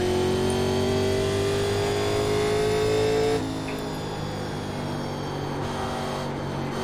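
A 1987 NASCAR race car in iRacing running laps at Iowa Speedway, its engine droning at a steady high pitch that rises slowly, then drops to a lower, quieter hum partway through.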